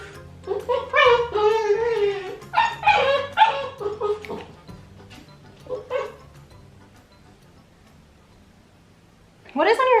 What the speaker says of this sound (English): I can hear her barking.